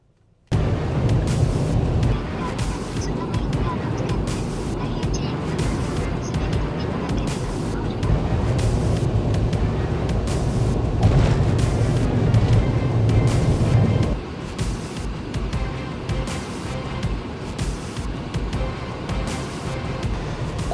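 A car pulls out and drives on a snow-covered road during a heavy snowstorm in Hokuriku, giving a steady loud rumble of engine, tyres and wind throughout, easing slightly after the midpoint.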